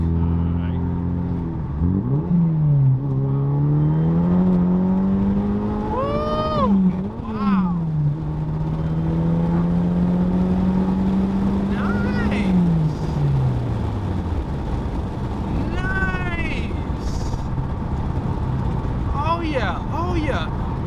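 Chevy Cobalt SS accelerating hard: the engine note climbs steadily through the gears, dipping briefly at each shift before winding up again, then falling off near the end, with voices talking over it.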